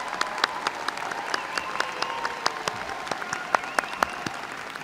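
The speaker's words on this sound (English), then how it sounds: "Let's give these graduates one more round of applause," Steady crowd applause at a dental school graduation ceremony, with a continuous wash of many hands and a few sharper individual claps standing out.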